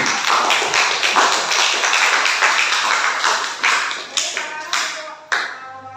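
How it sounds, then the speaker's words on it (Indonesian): A crowd claps steadily and energetically, dense hand claps close by that thin out and stop near the end. "Tepuk tangan untuk kalian semua."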